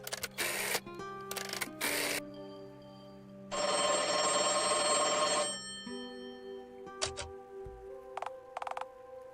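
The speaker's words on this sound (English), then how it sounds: "all the sound effects that go into it, like all the phone sounds" Assorted phone sound effects from a video game: short bursts of static-like noise, a longer hissing burst, and brief electronic beeps and clicks spaced irregularly over a faint steady hum.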